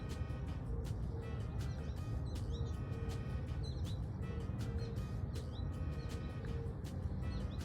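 Small garden birds sing and chirp in the background, repeated short tweets scattered throughout, fairly faint against a steady outdoor hiss.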